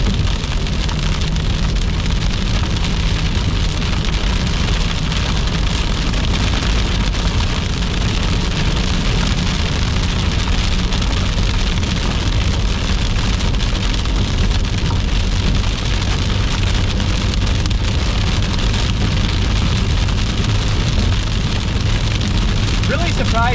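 Heavy rain falls during a storm chase in Iowa, a loud, dense, unbroken roar of drops hitting a vehicle. The downpour holds steady throughout.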